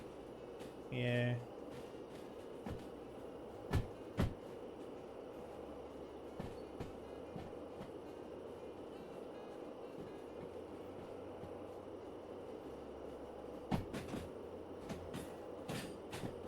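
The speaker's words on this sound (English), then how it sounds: "I do like being in the cab and driving in the locomotive from the cab" A steam locomotive runs steadily in Derail Valley, heard from the cab as a continuous rumbling rail drone with scattered sharp clanks and a brief hiss. A single short spoken word comes early on.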